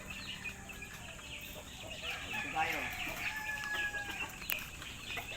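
Farm chickens cluck and call continuously at moderate distance against a steady background hum, with a brief spoken voice partway through.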